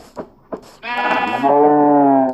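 A single drawn-out sheep bleat in Minecraft, loud and close, preceded by a couple of short clicks.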